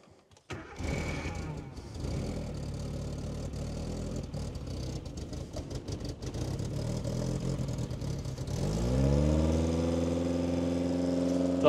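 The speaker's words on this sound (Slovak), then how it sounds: "Tak prvý štart bez sytiča" Suzuki Samurai engine cranking and catching without the choke, then idling steadily and revving up near the end, loud and close with no talk over it.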